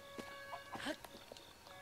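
Chickens clucking in Kakariko Village in The Legend of Zelda: Breath of the Wild, with a few short, faint clucks over quiet game background tones.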